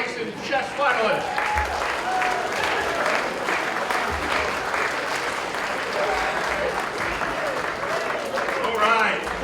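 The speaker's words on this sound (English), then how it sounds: "one more round of applause for our ice and chess finalists" An audience applauds steadily at an esports awards ceremony for the finalists, with sustained, fairly close clapping and a few voices faintly audible underneath.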